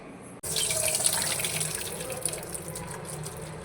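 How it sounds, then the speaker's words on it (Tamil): Soaked sago pearls drained of water, a steady close splashing pour like running tap water that starts abruptly and continues alone at an even level. "இதை தண்ணியை நல்லா வடிச்சிட்டு எடுத்துக்கலாம்."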